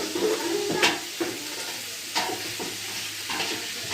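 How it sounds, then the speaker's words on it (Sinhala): A spoon stirs chili powder into a river fish curry in a pan, soft sizzling under a few sharp scraping strokes against the metal. "මිරිස් කුඩු. දාලා කලවම් කරනවා."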